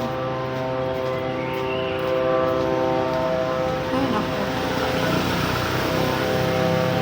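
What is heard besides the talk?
drone flying close overhead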